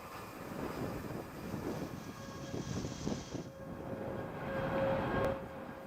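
A ULA Vulcan rocket lifts off on a national security space launch, its broad rumbling roar sustained and distant, swelling and fading with a faint tonal whine through the middle.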